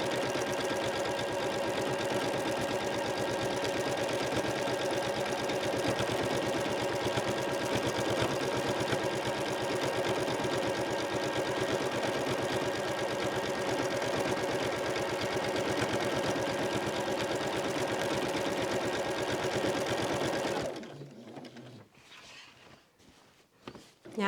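Sewing machine quilting through fabric layers with a walking foot, a long steady close hum of rapid stitching that runs unbroken for about twenty seconds before stopping abruptly, leaving faint handling noises.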